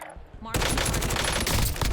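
Sudden burst of rapid gunfire in a Warzone match on Verdansk, loud and dense, firing continuously after a short quieter moment at the start.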